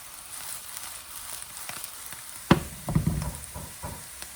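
Pan-fried buns sizzle steadily in a frying pan, crackling, broken by a sharp clatter midway and a few softer knocks of a utensil.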